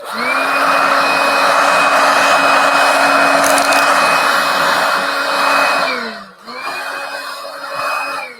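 A rechargeable battery-powered shop vacuum runs with a loud, steady whine, then briefly dips and comes back up at lower strength near the end.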